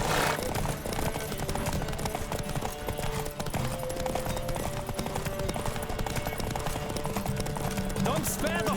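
Horse hooves gallop in a fast, driving clip-clop rhythm during a race in The Witcher 3, under dense game music and ambience, with occasional voices woven into the mix.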